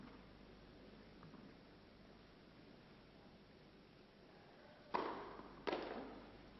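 Two sharp tennis serve strikes about a second apart in a 1987 professional women's match in Zurich, each a crisp pop followed by a brief ringing tail, over a low steady crowd hum.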